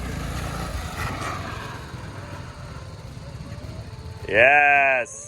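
BMW GS adventure motorcycles running during an off-road rear-brake training exercise, a steady mid-distance engine drone throughout, with a voice speaking briefly near the end.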